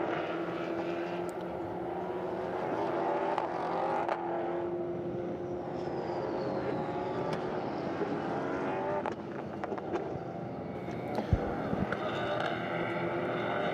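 A European Endurance Prototype Cup race car on its final lap at Paul Ricard, a steady engine drone that sweeps and shifts in pitch as the car passes, continuous and moderately loud without speech.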